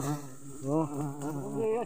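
A dense swarm of wild bees hums around a large nest in the rural countryside, a close, steady buzzing with wavering pitch that rises and falls throughout.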